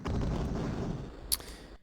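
Cannon fire in the 1993 DOS strategy game Transarctica hits and blows up a locomotive, a dense continuous rumble of low booming explosions with a short sharp crack near the end, then it cuts off.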